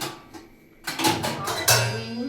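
Dishes, pots and pans clatter while being washed, a few sharp metallic knocks and scrapes close by after a quieter start, with faint ringing tones trailing.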